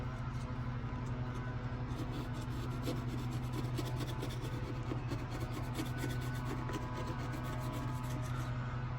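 Vinyl wrap being scraped off the panels of a British Racing Green BMW M4, a steady rasping, rubbing scrape that runs close and continuous over a low background hum, with no voices.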